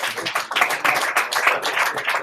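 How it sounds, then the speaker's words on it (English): A small audience claps at a football cup draw, a short burst of dense, fairly close applause that holds steady for a couple of seconds. "Give him a round of applause."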